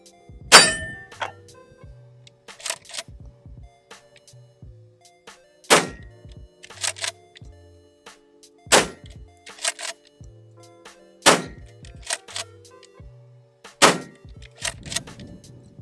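A Maverick 88 pump-action shotgun is fired at a target outdoors: loud, sharp blasts spaced a few seconds apart, each followed by the clack of the slide being pumped and racked, heard up close.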